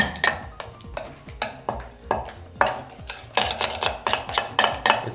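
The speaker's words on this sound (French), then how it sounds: "Ensuite tu peux mélanger. Et tu touilles" A spoon clinks and scrapes against a bowl while a smoked salmon spread mixture is stirred, with repeated irregular knocks and metallic pings up close, growing busier toward the end.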